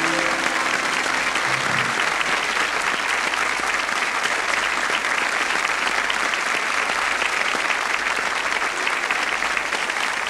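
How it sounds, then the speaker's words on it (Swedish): Loud, sustained applause from a studio audience on a 1992 Swedish television talk show, dense clapping that carries on steadily for about ten seconds. "En stor applåd till dig"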